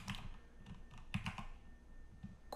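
Someone types a command on a computer keyboard in short, quiet bursts of key clicks, close and soft, with no voices.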